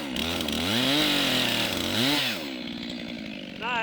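A chainsaw cutting wood in a forest, with a forest road nearby: a loud, close engine whine that rises and falls as the cut loads it, then settles to a steadier buzz.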